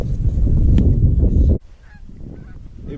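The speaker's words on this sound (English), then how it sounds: "Cold weather honkers late season." Many geese honk loudly and close as a flock calls during a cold-weather late-season goose hunt, the dense chorus cutting off abruptly halfway, leaving faint scattered calls in the distance.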